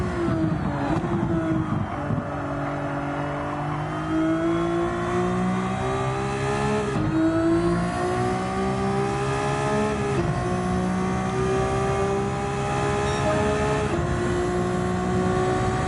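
A race car lapping a track in Gran Turismo 7, its engine droning loud and close with pitch rising through each gear and dropping at several shifts and braking points, all continuous with no talk.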